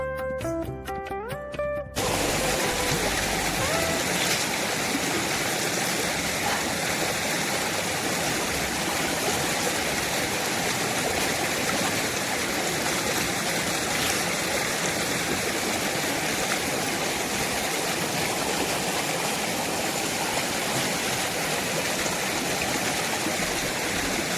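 A steady, loud rush of falling water from a waterfall at Maithon, continuous and broadband after a brief quieter opening, with no voices over it.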